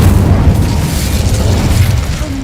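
In Hogwarts Legacy, casting the Incendio fire spell gives a loud, sustained roaring whoosh of flame that stays dense and steady for over two seconds, with no talking over it.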